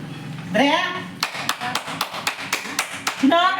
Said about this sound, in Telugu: చప్పట్లు కొట్టు పైకి లేస్తాడు.